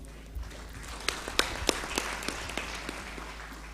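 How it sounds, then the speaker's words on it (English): Sparse, scattered clapping at a football association general assembly, a handful of distinct claps rising over a quiet hall with a low background hum. "Let us give a round of applause."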